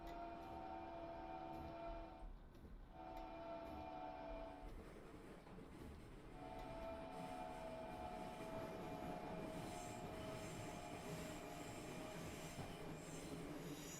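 A simulated train on the Mittenwald line rolls slowly up to a station building, with steady rolling noise, wheel squeal and brake tones that rise and fall, and a short gap partway through.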